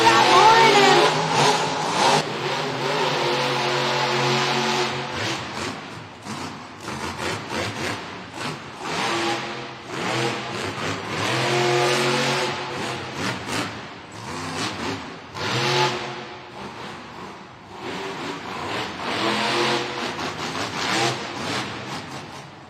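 The Kraken monster truck at a Monster Jam event in Duluth, Georgia revs its engine in repeated loud surges with pops as it refires, sustained over roughly twenty seconds in the arena.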